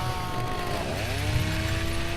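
A chainsaw runs continuously on a horror film set, its steady engine drone holding close and fairly loud, with the pitch shifting partway through as the revs change.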